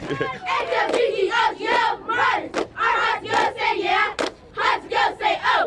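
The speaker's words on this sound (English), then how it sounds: "We do a cheer for you." A crowd chants a loud group cheer in unison, close and energetic, with rhythmic shouted bursts separated by brief gaps.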